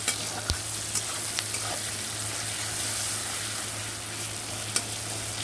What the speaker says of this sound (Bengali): আর দিয়ে দেব পরিমাণ মতো একটু হলুদ এবার ফোড়নটাকে সুন্দর করে ভেজে নেব